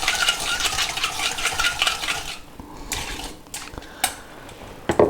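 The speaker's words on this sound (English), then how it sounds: "So whisk all the ingredients together" Garlic, lemon juice and oregano are whisked together in a bowl, a rapid rhythmic clatter of whisk against the sides that runs steadily and then breaks into a few scattered taps and knocks.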